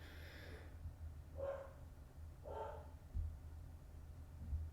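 A pet dog at home gives two muffled barks about a second apart, moderately distant and not loud, over a steady low hum of room noise.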